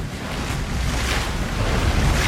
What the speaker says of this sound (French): Un petit chapelet de vagues.